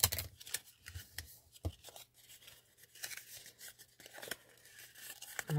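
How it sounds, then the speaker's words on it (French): Paper being creased into folds to make a box, with close, dry scraping, rubbing and crisp crinkling strokes coming in irregular bursts, fairly faint. "je vais procéder de la même manière en marquant bien les plis"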